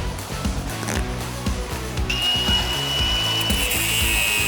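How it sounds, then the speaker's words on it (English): A Milwaukee angle grinder cuts into metal, giving a loud, steady grinding roar with rhythmic pulsing, then a sharp high-pitched whine as the disc bites in partway through. "I'm gonna start cutting with that grinder and then we'll tip it over."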